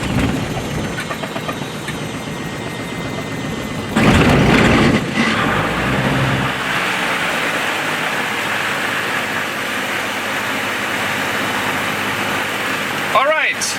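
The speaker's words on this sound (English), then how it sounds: "The engine successfully started" A light aircraft engine cranks and catches at about four seconds, then settles into a steady, close idle that fills the cabin, with a brief burst of talk under it.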